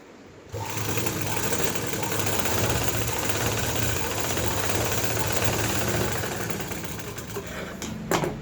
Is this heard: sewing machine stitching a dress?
yes